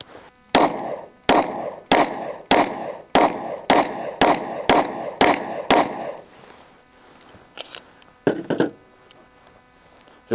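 A pistol test-fired with JHP rounds, about a dozen sharp, loud shots in a fast even string, followed by a pause and then two more shots, with faint clatter between.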